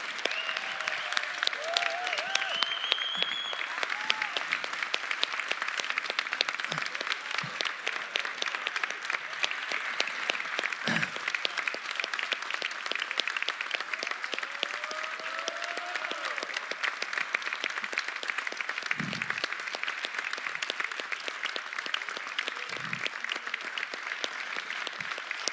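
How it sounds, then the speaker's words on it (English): A crowd applauds the volunteers at the final of a European, African and Middle Eastern sommelier competition, with sustained, even clapping across a large hall, a few louder claps near and occasional faint calls under the ongoing applause. "please give a big applause for these."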